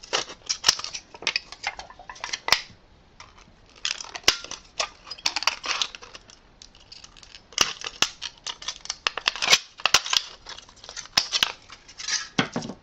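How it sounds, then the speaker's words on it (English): Shears snip through thin sheet metal to trim off burrs for metal flowers, sharp crisp cuts coming in quick bursts with short pauses, close and loud with no talking. "And then I'm going to cut this straight and cut off all the burrs."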